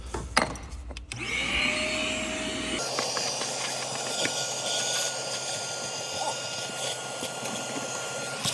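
A shop vacuum runs loud and steady, a continuous roar that starts after a short burst of clattering noise and holds for several seconds.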